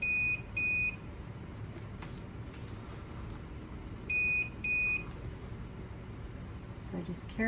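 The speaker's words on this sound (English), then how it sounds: "Sorry for the loud beeping noise." Two separate pairs of sharp, loud electronic beeps, a few seconds apart, ring out over a low background hum.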